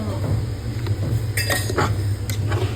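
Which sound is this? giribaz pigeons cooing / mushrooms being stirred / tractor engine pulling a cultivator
mushrooms being stirred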